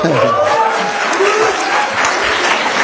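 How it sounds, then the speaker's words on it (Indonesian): Audience applause breaks out at a youth forum on democracy, a dense steady wash of clapping held at full strength throughout, with voices audible beneath it. "Ini kok pada tepuk tangan?"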